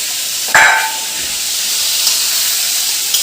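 Vegetables sizzle in a hot frying pan, a steady bright hiss broken by one sharp clank of a utensil near the start and faint knocks later.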